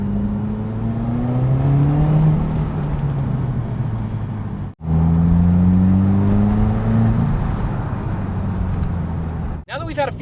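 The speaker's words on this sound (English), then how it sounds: "you can definitely hear that whoosh as that turbo spools up with our new turbo inlet" Subaru WRX with the 2015-2021 FA20 turbo engine and a new turbo inlet accelerating hard, engine note climbing steadily with a turbo spool whoosh, briefly lifting off midway before pulling again, loud and close from inside the car.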